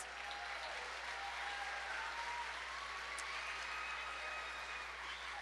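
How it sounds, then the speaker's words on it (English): Audience applause at a school Hispanic Heritage celebration, a steady wash of many hands clapping that fills the whole stretch at even loudness with no talk over it. "Give yourselves a round of applause."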